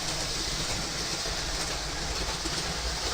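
A model train sets off and runs with a steady, continuous rolling rumble and clatter of wheels on track, held at an even level throughout with no voices.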